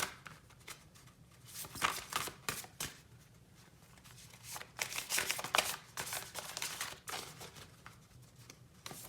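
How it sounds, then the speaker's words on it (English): Large tarot cards are shuffled by hand in repeated bursts of riffling and flapping, close up and fairly soft, with brief pauses between. "It's very hard to shuffle these cards."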